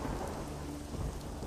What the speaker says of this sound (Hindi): ये आखिरी आखिरी बारिश है